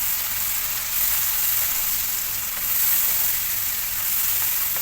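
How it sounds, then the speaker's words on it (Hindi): Dry spices and tomato puree sizzle steadily in a hot pan for sizzler biryani, a close, continuous crackling hiss with no voices. "ये मसाले को आपको अच्छे से भुनने देना है"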